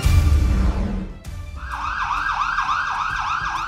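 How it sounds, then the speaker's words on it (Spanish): Emergency vehicle sirens sound during an earthquake drill, a rising and falling wail repeating rapidly after a burst of broadband noise, loud and near with no talking. "Las sirenas se activaron"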